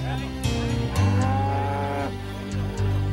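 Cattle on a ranch near Beeville, Texas, low close moos that swell and overlap across the whole stretch, loud and continuous with no talking.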